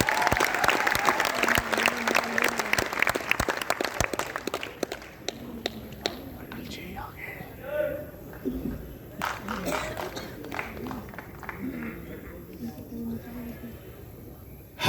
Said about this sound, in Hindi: आस्करण अटल जी, भरपूर तालियां बजा दीजिए